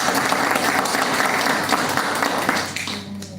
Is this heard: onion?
no